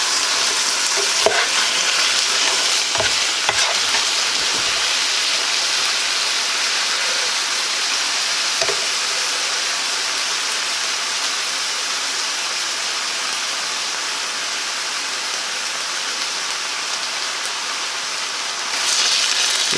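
Meat for Guinness stew sizzles steadily in a hot pan, a dense hiss of frying with a few scraping stirs near the start and a brief rise in level near the end.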